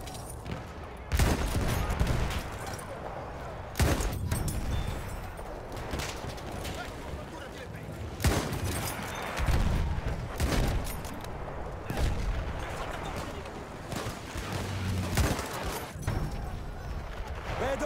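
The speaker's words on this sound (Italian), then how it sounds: "Attenzione mitragliatrice nemica! Là, una mitragliatrice nemica!" Enemy machine gun fire crackles in Battlefield 1 as rapid bursts of shots, recurring every few seconds over dense battle noise, with voices calling out across the fight.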